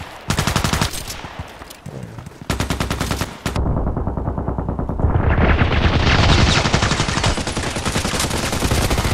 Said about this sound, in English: there's one guy shooting at all the players